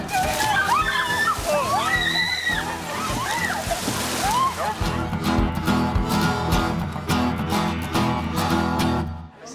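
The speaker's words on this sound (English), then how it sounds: "we had about 130 plungers come in and bravely jump into the water today" Polar plunge in cold December water in the Pocono Mountains, with people jumping in and splashing continuously, water sloshing loud and close beneath excited chatter and kids' voices, then music takes over in the second half.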